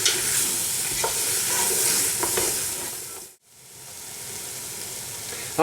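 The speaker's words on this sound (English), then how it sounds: "Stir the potatoes, leeks and spring onions well, keeping them moving so they don't stick to the pan." Potatoes, leeks and spring onions are stirred as they fry in a pan, giving a steady close sizzle with scraping stir strokes, broken by a brief near-silent pause before the frying resumes.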